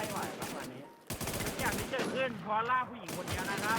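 Gunfire in the video game Runner comes as repeated bursts of shots mixed with game effects, while an excited voice talks over them.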